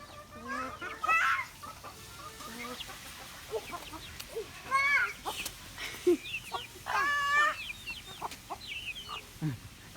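A flock of chickens clucks nearby while eating feed, in scattered bursts, some calls rising into louder squawks, with light pecking and rustling between them.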